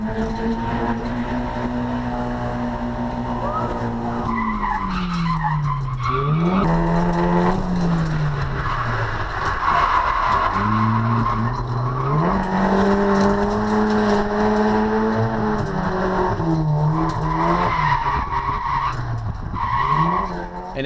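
A car powered by a CA18DET engine drifts around a track day circuit, its engine note climbing and dropping through shifts while tires squeal and skid almost continuously, loud and close, with no talking.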